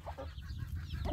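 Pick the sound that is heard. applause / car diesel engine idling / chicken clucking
chicken clucking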